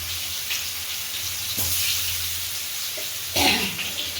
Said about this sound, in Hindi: देखिए कैसे ये फ्राई कर रही है